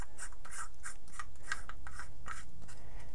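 A laser module being screwed onto the metal body of an old Maglite flashlight gives a close, steady series of small scraping, rasping thread clicks in a regular rhythm.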